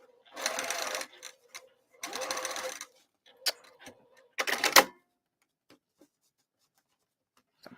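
A sewing machine stitches a bowler bag from the outside in three short, separate bursts, stopping in between with a few faint clicks. It sounds close and moderately quiet.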